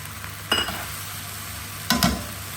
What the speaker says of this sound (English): Next, I'm just going to pop in my salmon.